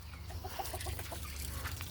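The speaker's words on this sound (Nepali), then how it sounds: "यो कुखुरा आउँदैछ" Chickens cluck in short, soft repeated bursts at a moderate distance over a low background hum on a rural homestead, with no voices.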